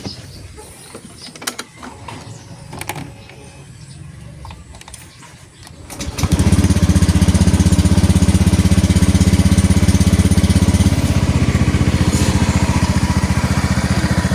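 A stock Honda Wave 125 motorcycle, its engine kicking in about midway after quiet outdoor ambience with birds, then running loud, close and steady until the end.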